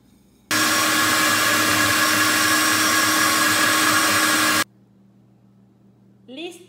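A blender grinds chile de árbol salsa for tacos with a loud, steady roar for about four seconds, then cuts off abruptly, leaving quiet room hum and a brief voice at the end.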